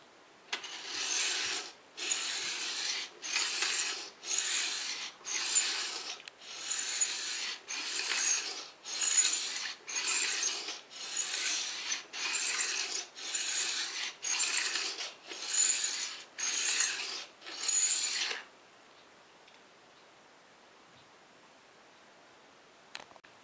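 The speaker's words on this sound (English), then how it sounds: "a quick demonstration of using the Edge Again manual version just to sharpen these boots over here" Edge Again manual hand-held ice skate sharpener drawn along a skate blade in about sixteen even, rhythmic scraping strokes, each a short rasping pass close up, followed by quiet.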